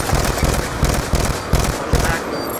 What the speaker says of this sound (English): Oh, nades are coming in.